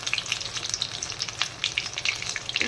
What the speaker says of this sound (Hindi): अभी इन्हें मैं फ्राई कर लूँगी।